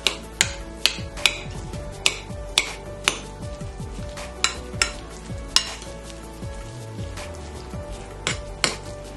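Whipped butter being mixed into baked yams in a dish, a series of regular, close clinks and scrapes of a utensil against the dish, each stroke sharp and evenly spaced.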